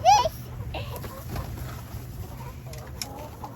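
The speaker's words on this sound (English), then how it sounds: "What's the chicken say?" Chickens on a home farm give a sharp squawk at the start, then softer scattered clucks over a steady low background hum, at moderate distance.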